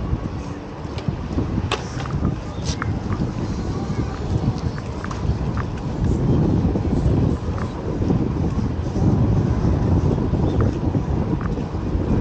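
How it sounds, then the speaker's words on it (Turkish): Steady wind gusting across an open microphone on a sunny, cool-breezed day in Marmaris, a broad continuous rumble that swells and stays loud throughout, with faint knocks and clicks scattered through it. "Güneş sıcak eyvallah ama rüzgar serin."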